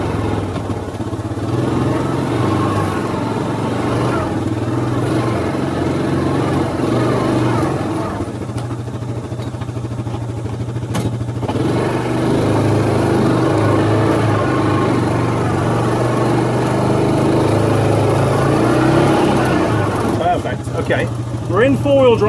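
A Yamaha Viking UTV engine drones steadily while driving off-road in two-wheel drive, deliberately pushed to get stuck, the low hum holding loud and near throughout with people talking over it.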